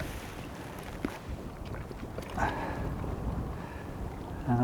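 Strong wind buffets a microphone on an open shoreline beside an old boat wreck, producing a continuous low rumbling roar with gusty surges and a few brief knocks, no voices present.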